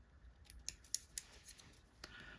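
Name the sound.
scissors clipping off excess thread while fly tying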